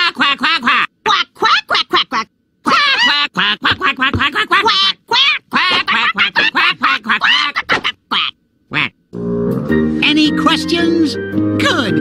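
A human voice imitates a duck, quacking over and over in short, irregular bursts, loud and close. Some pauses fall between the quacks, and near the end the quacking gives way to music.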